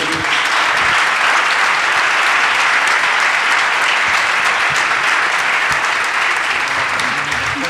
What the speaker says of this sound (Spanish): Por favor, un gran aplauso para ellos.